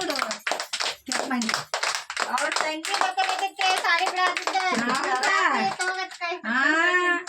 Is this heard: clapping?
yes